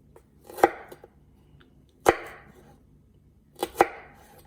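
A kitchen knife chops carrots into julienne strips on a cutting board, three sharp, close cuts spaced about 1.5 seconds apart, each a crisp knock against the board, with no talking.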